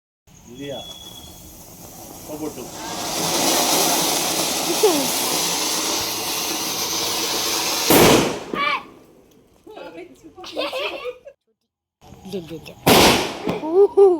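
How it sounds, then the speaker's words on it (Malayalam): A long hissing fizz of lit firecrackers builds, then two sharp loud bursts follow, with people talking and exclaiming in between. "പടക്കം കത്തിക്കുന്ന വീഡിയോകളായിട്ട് നിങ്ങൾ കണ്ടുകൊണ്ടിരിക്കുന്നത്"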